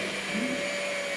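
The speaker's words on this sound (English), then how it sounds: "mix it a little bit before you turn the paddles on" A stand mixer with a paddle attachment works flour into cookie batter for Italian rainbow cookies, producing a steady, close motor drone.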